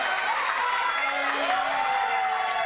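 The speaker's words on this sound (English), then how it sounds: "The crowd firmly behind Barrett and firmly against Moonshine" A wrestling crowd at ringside during a tournament final roars and cheers steadily, a dense loud wash of voices with shouts rising over it and a commentator talking throughout.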